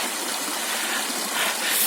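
A Carpathian mountain stream rushes in a steady, full hiss of flowing water, close and loud, with no one speaking.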